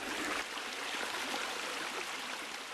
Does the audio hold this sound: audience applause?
no